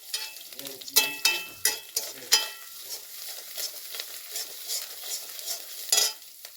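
Ginger paste frying in a pan for a chicken curry with broccoli, stirred with several sharp scraping strokes over a soft sizzle, close and fairly loud.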